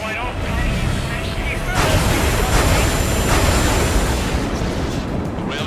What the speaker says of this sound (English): The railgun is firing again.